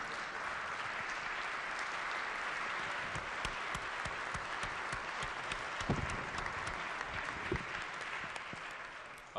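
Many hands clap together in a state legislature chamber, a sustained and even round of applause heard from a moderate distance with a faint crowd murmur.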